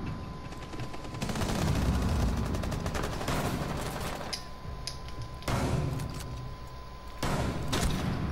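Gunfire in the tactical shooter Rainbow Six Siege: loud, rapid automatic bursts fill the whole stretch, with sharper volleys breaking out near the start, middle and end.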